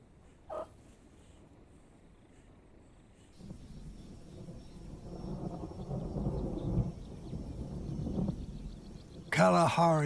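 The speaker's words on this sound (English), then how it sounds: "Kalahari storms are colossal. This boiling thunderhead has more power than 100 tornadoes." Thunder from a huge Kalahari thunderstorm rolls in as a low rumble that swells and stays sustained, then ends in a sharper, louder crack.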